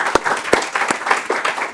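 Audience applause welcoming a discussion panel on ethical aid work, steady clapping from a room of people with a few sharp, close individual claps standing out.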